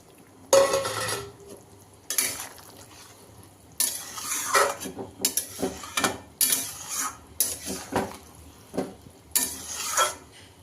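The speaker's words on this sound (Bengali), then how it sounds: "এখন ভেজে রাখা ভেন্ডি ঢেলে দেব।" Fried okra tipped into a boiling potato curry, then stirred with a spoon against the pot in several separate bursts of scraping and clatter, close and moderately loud, with quiet gaps between them.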